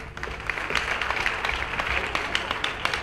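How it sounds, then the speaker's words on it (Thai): Steady applause from an audience at a Tiffany's Show transgender cabaret pageant, Miss Tiffany's Universe 2004, filling the hall with dense, continuous clapping and a few sharper claps standing out. "ขอเสียงปรบมือเป็นเกียรติสักนิดดีไหมครับ"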